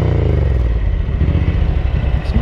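Ducati 900SS bevel-drive motorcycle engine running on its original exhaust, a loud, steady, close rumbling idle with continuous mechanical clatter and no voices.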